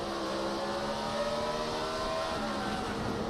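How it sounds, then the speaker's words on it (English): NASCAR race car wheel-hopping under hard braking during the 2006 Subway 500, heard as a loud, continuous engine drone with harsh tonal harmonics, recorded close on board. "He jumped on the brakes so hard you can hear that boom, boom, boom, boom."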